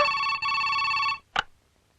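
An electronic telephone ring sounds steadily for just over a second, cuts off, then a brief soft knock or click follows before quiet.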